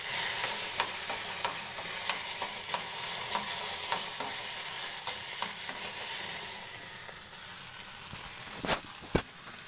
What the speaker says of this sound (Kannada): ಈರುಳ್ಳಿ, ಟೊಮೊಟೊ, ಬೆಂಡೆಕಾಯಿ ಫ್ರೈ ಮಾಡ್ಕೊಳ್ಳ